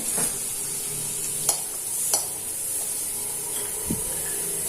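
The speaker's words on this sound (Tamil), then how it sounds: "அதுக்குள்ள வெங்காயம் நல்லா வதங்கட்டும்" Onions sauté in a pan for herb soup, giving a steady soft sizzle and hiss with a few sharp clinks and scrapes of stirring, fairly quiet and close, with no voices.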